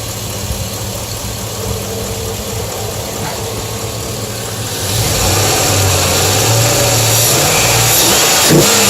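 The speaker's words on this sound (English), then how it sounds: "They make that ticking because that's how it pulsates." A truck engine with a noisy valve train and a new oil pan runs at a steady, close idle with a faint ticking, then swells noticeably louder about halfway through and holds there. No one talks.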